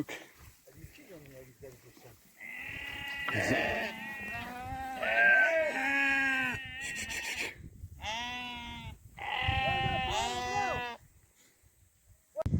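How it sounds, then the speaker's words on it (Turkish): Lambs bleat loudly and repeatedly up close while being sheared with two machines, their cries overlapping in bursts, with people talking in between. "Şöyle iki makineyle bugün kuzuları kırkıyoruz."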